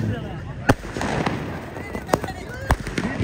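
Firecrackers burst at an outdoor tournament prize celebration: three sharp, loud bangs spaced about a second apart, with people talking and crowd noise in the background.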